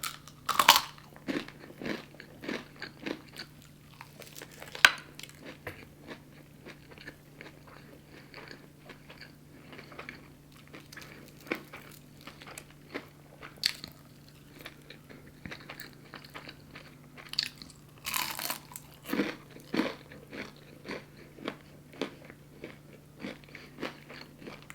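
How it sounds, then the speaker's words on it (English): Close, crisp crunching as someone bites into and chews crunchy fried chicken, repeated crackly bites and chews scattered over the stretch, with a steady low hum behind. "I'm gonna take a bite of this chicken."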